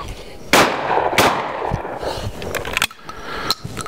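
Shotgun blasts fired at clay targets on a shooting range, two sharp loud reports in quick succession followed by fainter cracks and outdoor ambience.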